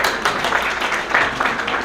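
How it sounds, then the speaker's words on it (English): Applause from the audience at a Kashmiri American New Year celebration and opening ceremony, a brief, dense burst of many hands clapping, steady and fairly loud. "So give them a big round of applause."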